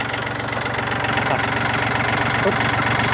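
A used tractor engine in a Thai dealer's yard idles steadily and close by, a continuous low rumble with a faint knocking pulse throughout, no speech over it.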